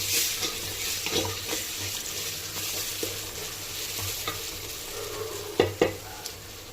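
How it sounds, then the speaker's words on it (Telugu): Chili powder and salt sizzle and fry in a pan for chicken biryani, a steady close hiss with occasional stirring scrapes and a couple of sharper clinks near the end. "ఒక టేబుల్ స్పూన్ కారం, హాఫ్ టీ స్పూన్ సాల్ట్, ఇవన్నీ ఫ్రై చేసుకుందాం."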